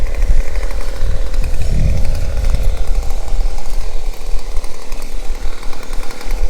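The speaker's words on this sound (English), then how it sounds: "these guys didn't have that chainsaw on site till today" A chainsaw runs continuously while cutting and trimming trees at a house construction site in the Philippines, loud and close with a steady droning whine and heavier low rumble as it bites into wood, no talking.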